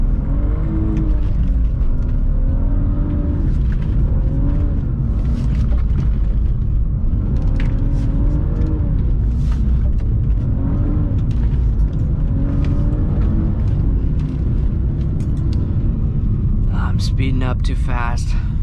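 A BMW E46 engine roars under load through a 1-2 shift while drifting, steady loud rumble with rising and falling rev sweeps, a voice talking over it near the end.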